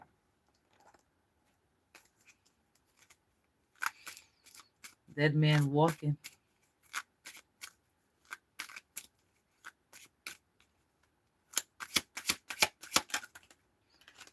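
Tarot cards are shuffled in a quick riffling burst, followed by scattered sharp card snaps and flicks, while a voice speaks briefly.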